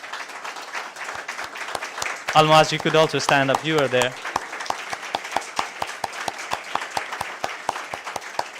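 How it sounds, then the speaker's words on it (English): A round of applause for volunteers in the hall of an agency general assembly, steady close clapping throughout with a voice speaking over it partway through. "that is a round of applause from my side to all the volunteers within my unit"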